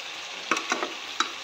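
Onion, garlic and spices fry in a cooker with a steady close sizzle, broken by a few sharp stirring scrapes and clicks.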